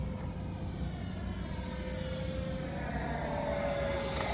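A Flyfans L-39 camo RC jet with a 64 mm ducted fan passes in flight, flaps and gear down, giving a steady, sustained jet whine whose pitch slowly climbs, heard from the ground with no voices.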